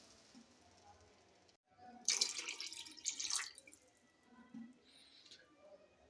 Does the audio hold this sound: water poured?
yes